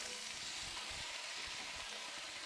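Diced chuck steak, about a kilo, fries in a pot at an outdoor camp while being stirred, giving a steady, quiet sizzle with soft scraping underneath and no talk.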